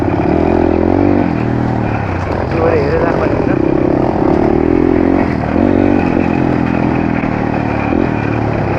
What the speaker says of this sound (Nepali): उताबाट पनि बाइकहरू चाहिँ आइरहेको छ